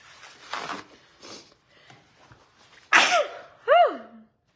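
A single loud sneeze bursts out near the end, preceded by a few soft breaths and small sounds.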